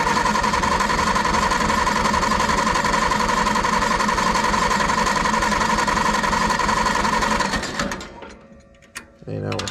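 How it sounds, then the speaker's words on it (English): An engine turns over on the starter without firing to pump oil up after an oil filter change, making a steady, loud mechanical churning that runs unbroken for about eight seconds and then cuts off. "Crank it over a little bit first to pump some oil up too."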